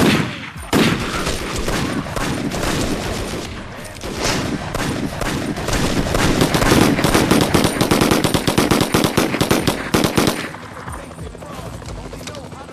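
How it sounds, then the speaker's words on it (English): Rapid bursts of automatic gunfire from the Xbox crime shooter 25 to Life, dense, loud and sustained for about ten seconds before tapering off, with game voices mixed in. "Fire at will."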